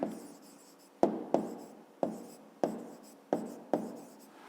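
A pen scratching on paper as a maths solution is written down, short bursts of strokes repeating every half second or so, close and fairly quiet, with no talk.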